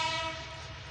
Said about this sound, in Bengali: 6603 লোকো নিয়ে তিতুমির এক্সপ্রেস এখন কিন্তু সৈয়দপুরের উদ্দেশ্যে